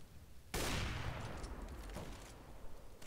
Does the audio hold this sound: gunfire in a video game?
yes